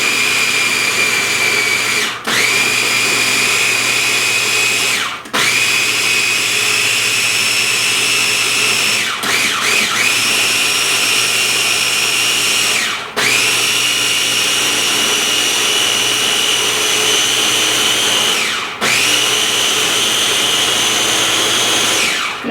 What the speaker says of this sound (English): So what it tells you to do is now to blend until smooth and creamy